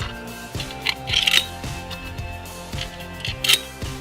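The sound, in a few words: screws placed into a solar light fixture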